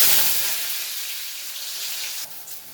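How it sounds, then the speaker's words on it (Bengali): Cut potato pieces drop into hot oil in a wok, setting off a loud, steady hiss of frying that gradually eases and dips briefly near the end, with no talking. "কড়াই তেল দিয়ে দিয়েছি তেলটা গরম হয়ে গেছে গরম হয়ে যাওয়ার পর আমি যে ছক্কা ছক্কা করে আলুগুলো কেটে রেখে দিয়েছিলাম সেইগুলো আমি একটু দিয়ে দেবো"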